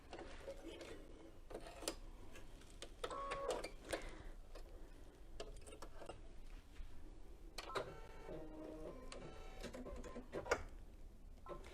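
A sewing machine stitches in short mechanical bursts, with rapid ticking and clicking runs separated by pauses, close and moderately quiet.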